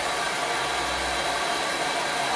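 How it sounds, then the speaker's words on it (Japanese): A hair dryer blows directly onto hair while it is styled into a center part, giving a steady, close, full-bodied rush of air that runs unbroken with no talking. "このドライヤーの口を使ってダイレクトに風当てて乾かしていきます。"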